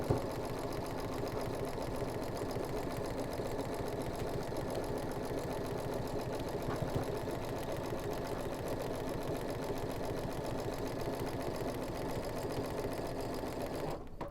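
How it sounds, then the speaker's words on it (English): Sewing machine stitching quilt block strips, a steady fast mechanical whir running unbroken at moderate level from start to finish. "Make sure it's still pressed towards the dark, and continue to sew."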